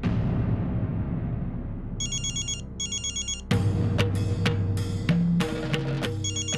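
A telephone rings in a domestic drama scene, its electronic ringtone pulsing in short repeated bursts, then joined by loud dramatic music stings with heavy low hits.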